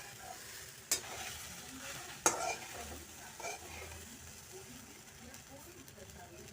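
Sabudana khichdi sautéed over raised heat in a pan, a faint continuous sizzle with a couple of sharp spatula knocks and scraping stirs, a voice talking quietly in the background.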